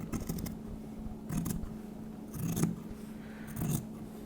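Scissors snip through layers of fashion fabric, underlining and power net while seam allowances are graded on a gown, four crisp cuts about a second apart, close up with soft fabric rustling between them.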